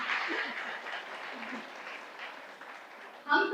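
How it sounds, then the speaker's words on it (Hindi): An audience in a meeting hall at a 26 January community programme claps in dense, steady applause under a faint speaking voice, with a louder close burst of sound at the very end. "मेरे लिए ताली बजा सकते हैं आप लोग।"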